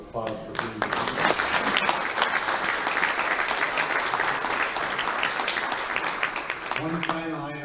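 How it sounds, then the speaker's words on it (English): An audience at a Chamber of Commerce and Industry event applauds state legislators, with a dense, sustained round of clapping that fills the room and fades near the end as a voice returns. "I'd like you all to give our legislators one more round of applause for being here."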